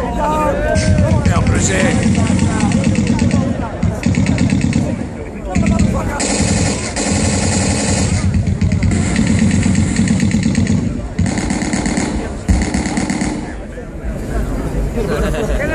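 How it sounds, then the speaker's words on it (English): Sopwith and Fokker triplane engines roar loudly and continuously at an air display, their throb rising and dipping as the aircraft maneuver. A commentator's amplified voice runs over the engine noise. "you'll hear the sound of those very powerful engines in both the Sopwith and the Fokker triplanes"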